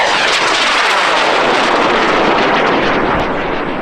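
A Wildman Punisher model rocket roars off its pad on an M1830 motor, a loud, dense broadband blast that holds steady for several seconds and then starts to fade as it climbs away, with no voices.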